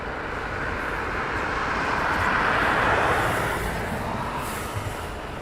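Eurofighter Typhoon jets doing performance takeoffs at RAF Coningsby on a winter day, a loud, steady, broadband engine roar that builds slightly toward the middle and then eases, with nothing else heard over it.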